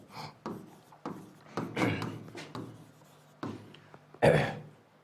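Marker or chalk writing on a board in a spoken English lesson, with intermittent scratchy strokes in short bursts, a couple of louder knocks, and faint voice sounds between.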